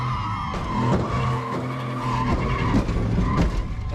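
At a Cleetus and Cars event, a car does a continuous burnout with loud, sustained tire skidding over a revving engine. The sound stays near and heavy throughout.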